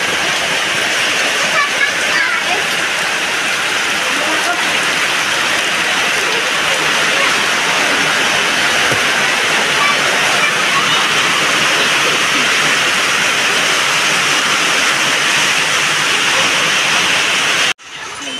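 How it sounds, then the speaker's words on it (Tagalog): Heavy rain pours down steadily in a dense, loud, unbroken hiss for the whole stretch, ending abruptly at the very end. "Ayan na naman. Ang ulan."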